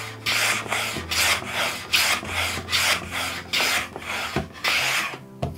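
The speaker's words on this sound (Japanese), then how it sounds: "こういうふうにカンナ掛けをすることもできます" A Japanese hand plane shaves a light cedar board clamped on a portable workbench, making about ten steady, rhythmic rasping strokes, each a close, bright swish separated by brief gaps.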